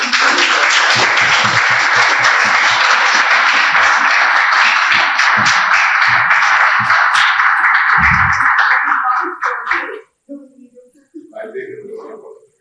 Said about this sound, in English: I'd like to go to applause lastly.